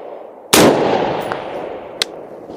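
A rifle fires one loud, sharp shot at an outdoor shooting range with a 200-yard target, its report echoing and fading away, followed by a fainter distant crack, likely the impact on a steel target.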